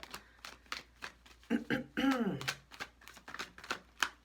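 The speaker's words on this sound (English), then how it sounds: "So many of you say that you like watching me shuffle" A deck of tarot cards is shuffled in quick, crisp riffles and taps, close and quiet, with a person speaking over the shuffling.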